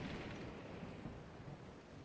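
Rumbling thunderstorm in a Zelda video game, a steady heavy roar of thunder and rain filling the whole stretch with no talk.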